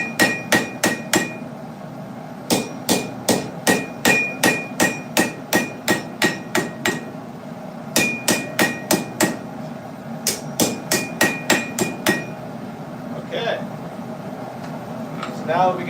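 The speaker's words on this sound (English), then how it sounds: "you probably can't hear me over the hammering" A blacksmith hammers carbon steel on an anvil while forging a steak flipper, with steady rhythmic ringing strikes in rapid bursts separated by brief pauses, loud and close over a constant background hum.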